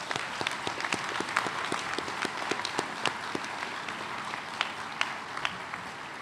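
Audience clapping at an on-dock rail facility groundbreaking ceremony at Pier B, a steady, dense round of applause from a crowd of guests that holds at an even level throughout.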